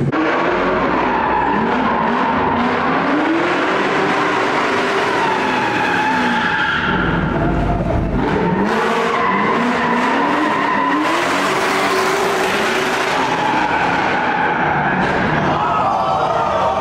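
A Corvette drives hard with tires skidding and squealing, the engine roaring loud and near throughout as the squeal rises and falls in long sweeps.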